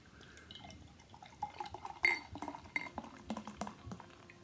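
Weltenburger Kloster Asam Bock, a dark brown beer, is poured into a glass: quiet trickling and dripping liquid with small clinks of glass, irregular and close, gathering into a brief splashy burst midway before settling into scattered drips.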